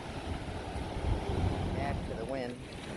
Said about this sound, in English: Very windy. I'm sorry if it's windy.